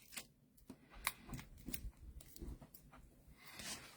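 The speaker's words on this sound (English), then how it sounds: "So we'll peel our backings off here." Adhesive backings are peeled off pieces of paper for a handmade card, making soft, close crackles and scrapes in short bursts at a quiet level.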